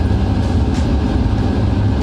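Steady low rumble of a train arriving at Bikaner railway station, rolling along the rails, a continuous heavy drone with faint rattling, no voices.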